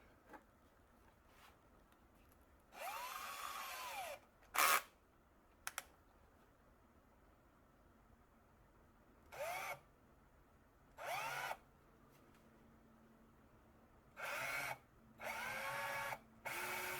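Several short bursts of a small power drill whirring as it bores an eighth-inch hole, separated by quiet pauses and light clicks, fairly faint and close.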